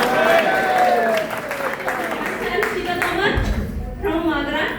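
An audience at a live session in Goa claps and cheers along with a loud spoken greeting, applause mixing with voices under a ringing tone.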